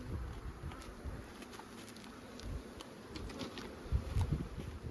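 Honey bees buzz around an open, multi-box beehive, a steady close swarm drone with faint individual wing hums rising and fading over a soft background.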